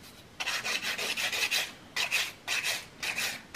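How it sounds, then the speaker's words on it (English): A nail file rasps back and forth while shaping and refining an artificial nail, in short bursts of close scraping strokes with brief pauses between passes. "you would be filing to whatever shape it is that you've created"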